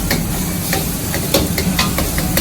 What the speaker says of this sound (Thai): ฉะนั้นเราจะใช้เส้นจันแห้งนะครับ มาแช่น้ำแล้วก็เอามาผัด